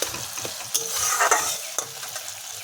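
Tomatoes fry in a pan while a spoon stirs them, giving a close sizzling hiss broken by several scraping and clinking stirring strokes.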